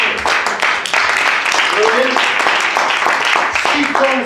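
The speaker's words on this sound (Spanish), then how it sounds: "Denle un aplauso" Applause from a church congregation fills the space, a dense steady wash of clapping with voices mixed through it.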